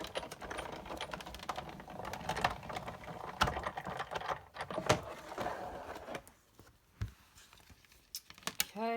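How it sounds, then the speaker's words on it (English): An embossing folder with a plate is cranked through a manual embossing machine while making a paper card, giving a close, steady run of rapid clicking and rattling that thins into a few scattered clicks near the end. "put the embossing folder down, and just run it through"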